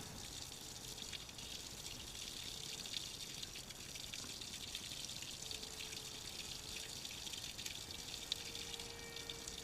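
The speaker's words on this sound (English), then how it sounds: "Use water and a hose to wash off the dirt and the cleaner." Steady hiss of water spraying from a hose while washing a 2011 Kawasaki Ninja 250 motorcycle, continuous and fairly even throughout, with no voices.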